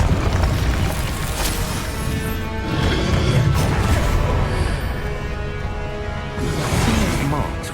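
Casting the Incendio fire spell in the video game Hogwarts Legacy produces a loud, sustained roar of crashing, rumbling effects that surges and eases in waves over several seconds.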